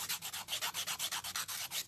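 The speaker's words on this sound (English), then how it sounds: "I buy them for sanding because they're fabulous for sanding these little things." Small wooden pieces rubbed back and forth against a nail file, a steady rhythmic rasping of about a dozen quick strokes, close and fairly quiet with no voices.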